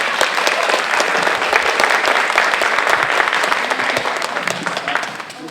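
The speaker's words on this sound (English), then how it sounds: "Please give them another round of applause." An audience claps loudly and continuously for a children's chorus performance, a dense, sustained ovation that tapers slightly at the end.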